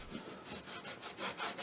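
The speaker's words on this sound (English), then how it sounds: "I grab a bit of old t-shirt from my t-shirt graveyard and wipe off all the excess oil." A rag torn from an old cotton t-shirt rubs and wipes excess linseed oil off a hand-carved wooden chisel, giving close, steady scrubbing strokes in a quick back-and-forth rhythm with no talk.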